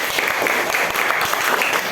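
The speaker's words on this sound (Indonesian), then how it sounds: "Berikan tepuk tangan untuk masing-masing" A classroom of students applauding each group during a teaching session, a brisk, fairly loud wash of clapping that runs steadily throughout without a break.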